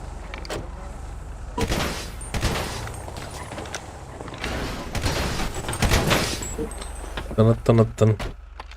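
Gunfire crackles in a video game turf war, with scattered sharp shots and short bursts going off from several directions among vehicle and mechanical noises as players talk throughout.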